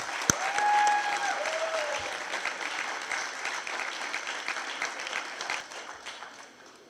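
Audience applause welcoming actress Bushra Ansari on stage at a women's conference, a sustained wash of clapping from a large crowd that slowly fades, with a brief tone heard early on.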